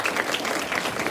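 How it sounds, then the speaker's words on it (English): An audience at a 2021 candidate debate in American Fork claps in a dense, continuous patter, a sustained round of applause with no voices rising above it. "Let's give them a big round of applause one more time."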